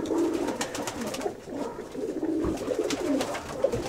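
Karabasi pigeons in Ptolemaida, Greece, coo repeatedly in low, throaty phrases, several birds overlapping at moderate distance on a hot autumn midday.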